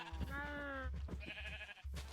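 Cows in a Resident Evil game let out a couple of drawn-out, wavering low calls, close and fairly clear, with faint talk in the background.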